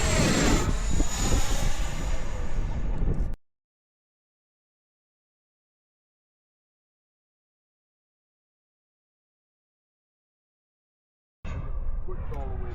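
A model jet, a Sabre or Sukhoi, flies at Fritz Field with a loud, steady turbine roar. The roar stops abruptly into a long silence, then comes back near the end.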